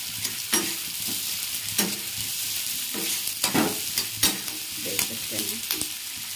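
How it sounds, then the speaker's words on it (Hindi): Onions fry in a pan for a soybean curry, with a continuous close sizzle. A spoon scrapes and stirs in repeated, irregular strokes over the frying. "तो यहाँ मैंने ऑनियन को डाल दिया। एक बस रेड हो जाए भून जाए"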